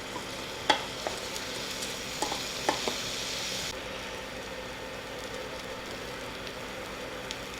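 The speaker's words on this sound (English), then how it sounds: "And we're just going to toast the rice." Rice toasts in a hot pan, a soft steady sizzle with a few sharp scraping stirs near the start before the hiss fades to a quieter crackle.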